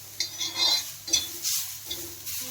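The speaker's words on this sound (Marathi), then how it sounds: "हे ओलं खोबरं आहे, 1 वाटी घेतलेलं होतं ते मी आता हे पण भाजून घेणार आहे." Fresh grated coconut roasts in a pan with a faint sizzle while a spoon scrapes and stirs it in short, repeated strokes, heard close and fairly quiet.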